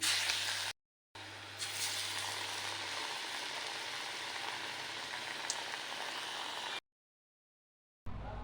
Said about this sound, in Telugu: ఈ విధంగా వన్ బై వన్ గారెలు వేసుకొని మంచి కలర్ వచ్చేంత వరకు డీప్ ఫ్రై చేసుకోవాలి